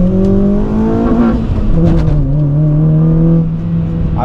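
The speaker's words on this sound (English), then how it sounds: "So I'm gonna do a little pull here to show you what it sounds like." Turbocharged car with long tube headers pulling at open throttle, a loud steady engine drone whose pitch climbs and shifts under load, heard alone.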